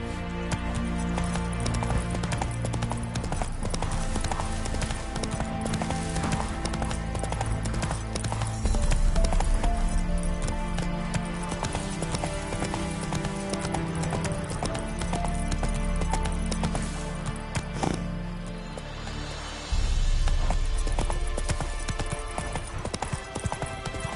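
Roach, the horse in The Witcher game, gallops with a loud, steady clip-clop of hooves that runs without a break through the whole stretch.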